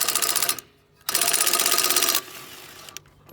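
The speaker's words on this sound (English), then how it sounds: "And fairly low power on the rattle gun." Impact wrench on 14mm bolts of a Honda HRU216 lawnmower, fitted with a 6-sided socket at fairly low power: two dense buzzing rattle bursts, the first about half a second, the second over a second, close and loud with a short pause between.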